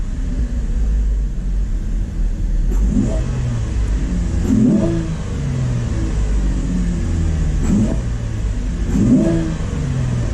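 A Chevrolet car engine in race throttle mode idles with a steady rumble, then revs up sharply several times in quick bursts, loud and close.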